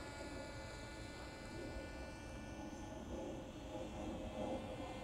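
A small RC paramotor flies overhead with a continuous, fairly faint buzzing motor drone that holds steady throughout, rising slightly toward the end, with no talking.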